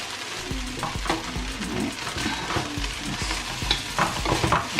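Ghana-style fried rice is stir-fried in a pan, with steady sizzling and repeated scraping and tossing strokes of a utensil against the pan throughout, close and fairly quiet, with no voices.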